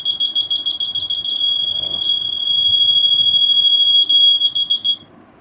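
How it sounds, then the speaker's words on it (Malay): A loud, high-pitched alarm buzzer beeps in rapid repeating bursts, then holds a steady tone before pulsing again and stopping. "Dia buzzer double macam biasa lah. Makin dekat makin dia makin kuat lah."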